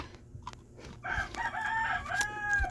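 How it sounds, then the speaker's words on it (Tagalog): A rooster crows once nearby, a loud drawn-out cock-a-doodle-doo rising and falling, following a few quiet clucks. "Ang ingay ng manok."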